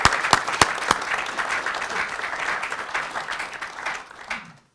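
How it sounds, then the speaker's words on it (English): At a town's State of the Town address, the audience applauds for Mike: a few sharp claps open a sustained, fairly full burst of clapping that tapers off and ends. "please, everyone give Mike a round of applause"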